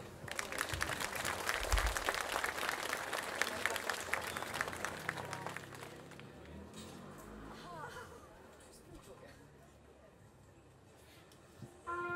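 Audience applause at a brass orchestra's jubilee concert, a dense, loud clapping that fades over several seconds into quiet hall murmur as a voice speaks over it.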